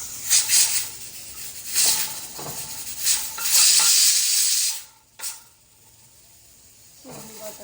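Peanuts roasting in a pan, with repeated scraping stirs and rustling bursts over a faint sizzle, loud then fading to quiet with a few final scrapes.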